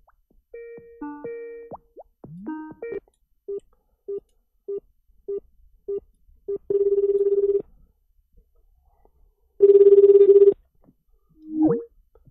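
Outgoing phone call placed over Skype: a series of short electronic tones sounds first, then about six evenly spaced ringback beeps follow, and two longer buzzing ring tones come after them, all clear and alone with no talking.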